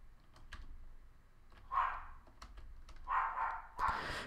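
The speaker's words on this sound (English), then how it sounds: "I do apologize for my dog barking" A dog barks a few times in short bursts, fairly close, over quiet room background during a Roblox Assassin trading session.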